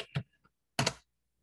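Keys tapped on a computer keyboard while entering a command in a Cisco IOS terminal, heard as two short bursts of close, crisp clicks with a brief tick between and silence after.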